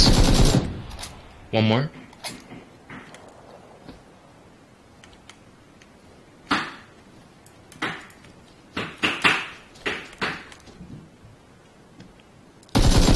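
Gunfire in PUBG, scattered sharp cracks and short bursts spread across quiet stretches, loud to moderately distant, with players talking between shots.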